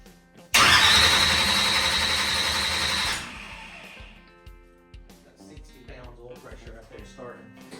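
A boosted big block Chevy engine cranks briefly, then fires and roars loudly for a few seconds before dropping into a rough, rumbling idle. Voices talk faintly over the idle.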